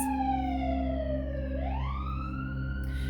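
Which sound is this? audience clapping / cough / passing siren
passing siren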